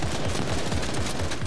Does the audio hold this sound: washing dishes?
no